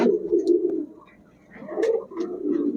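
Pigeons for sale from a racing loft coo in low, throaty repeated phrases, close by and fairly loud, with a short lull in the middle and no talk.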